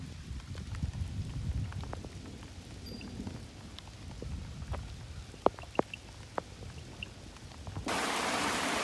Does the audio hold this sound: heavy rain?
yes